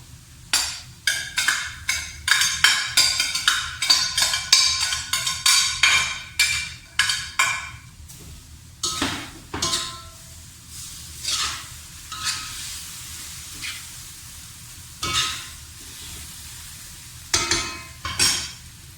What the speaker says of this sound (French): Je remue de nouveau. Je baisse mon gaz et je vais ajouter mes légumes.